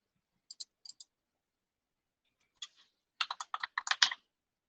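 Computer keyboard typing, a few isolated clicks followed by a quick, close burst of rapid keystrokes, quiet and alone with no talking.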